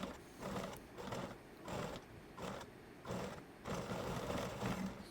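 A sewing machine stitching the neckline of a kurti, running in five or six rapid mechanical bursts with brief pauses between, steady and close.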